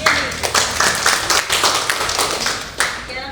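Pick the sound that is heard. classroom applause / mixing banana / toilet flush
classroom applause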